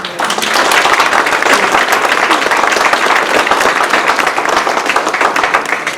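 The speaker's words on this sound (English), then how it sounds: "join me in giving Bertram, Elisa, Miss Allison, and Brant a round of applause" Audience at a foundation gala breaks into sustained, loud applause, dense clapping from many hands filling the hall steadily with no pause, close and continuous throughout.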